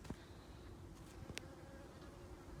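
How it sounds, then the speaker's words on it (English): Bees buzz softly around young butternut plants in a garden, a low droning hum with a few passes coming closer; quiet outdoor setting, no talking. "the bees are buzzing all around me"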